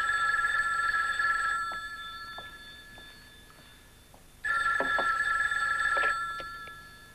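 A telephone bell rings in two bursts, each loud shrill trill fading out before the next starts, heard alone in an indoor room.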